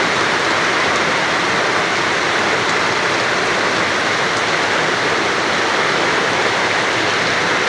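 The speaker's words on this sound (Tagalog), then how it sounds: "Lakas ang ulan, oh." Heavy rain falls hard and unbroken over a beach where swimmers are still in the sea, a loud, dense, steady wash of noise with no pauses.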